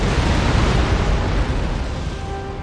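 Naval cannons firing in an Empire: Total War sea battle, heard as a thick, continuous roar of broadside blasts blending into a loud rumble that eases slightly toward the end.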